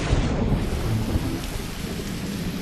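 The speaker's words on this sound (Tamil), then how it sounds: "மழை பெய்யுது." Cartoon rainstorm with heavy rain pouring steadily and a deep rumble of thunder rolling underneath, loud and close throughout, with no voices.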